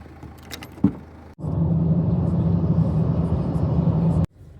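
Steady road rumble and engine drone inside a car on a long motorway journey, a low continuous hum that starts abruptly after a brief clink, then cuts off sharply near the end.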